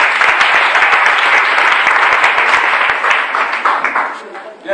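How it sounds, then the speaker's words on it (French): Church congregation applauding and cheering, dense sustained clapping from a large crowd that fades slightly toward the end, loud and near, with voices mixed in. "Est-ce qu'on peut les acclamer encore?"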